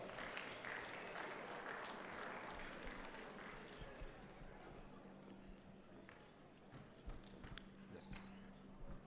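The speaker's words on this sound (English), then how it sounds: "Let's give them a big round of applause." Audience applause at the IPM 2019 awards ceremony, a fairly faint, sustained patter of clapping through the hall that thins toward the end, with a few scattered louder claps.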